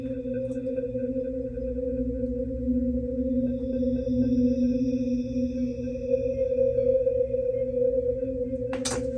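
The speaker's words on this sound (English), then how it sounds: "it's almost like an eerie sound in the background, but it's not eerie. It's just playing one note or maybe two notes" A sustained low note of one or two pitches drones through a music track, holding steady and fairly loud with faint higher tones above it, then a brief bright burst near the end.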